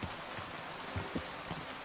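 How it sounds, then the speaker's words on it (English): Rain patters steadily in the medieval video game Kingdom Come: Deliverance II, with scattered sharper drops pinging off metal armor near the listener over a constant hiss of falling water, no voices. "hearing the rain ping off the armor"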